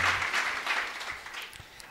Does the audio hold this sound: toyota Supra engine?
no